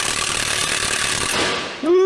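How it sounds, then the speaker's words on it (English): An impact wrench with a wobble socket works on a bolt of a 73-year-old CAT bulldozer, a loud close continuous hammering rattle lasting almost two seconds, cut off by a brief rising whine. "I don't have as much room for the impact on this machine"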